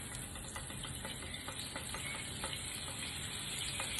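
Butter sizzling and spitting in hot vegetable oil, a steady close frying hiss with scattered crackles throughout.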